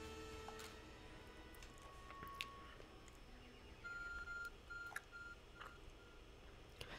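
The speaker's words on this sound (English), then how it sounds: "Your arc phone is beeping." Short electronic beeps and chirps from an in-game phone device in Pokémon Legends: Arceus, repeating in quick pairs at moderate volume over quiet game ambience.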